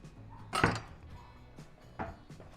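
Knife knocking on a cutting board while Roma tomatoes are sliced and cored, a few sharp close clacks with quiet gaps between, no talking.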